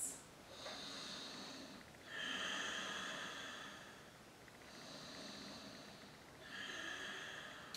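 Long, slow, deep breaths drawn in and let out during a chair yoga session, soft airy swells rising and falling in about three drawn-out cycles, close and quiet with no talking.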